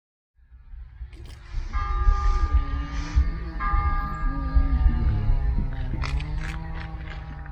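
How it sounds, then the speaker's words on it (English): Church bells ring out with sustained, resonant tolling tones over a low, throbbing hum, starting after a brief silence and carrying on steadily, with a few sharper strikes near the end. "The church bells are ringing."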